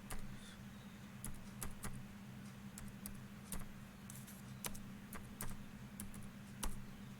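Keys clatter on a computer keyboard as a filter name is typed in Revit, with scattered sharp taps in an uneven rhythm over a steady low hum, close and fairly faint.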